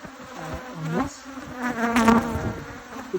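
Honey bees buzz inside a catchbox, a dense close hum that rises and falls as individual insects drone past, loud and continuous.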